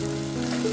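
A steady, close sizzle of onions and tomatoes sautéing in a hot pan, brief and unbroken.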